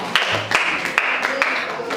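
A classroom group applauding for group 5, a short run of irregular hand claps at moderate loudness with a brief murmur of voices.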